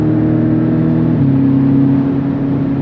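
A 2023 Porsche Cayman pulls hard from inside the cabin, its engine note a loud steady drone that shifts up in pitch partway through as it accelerates.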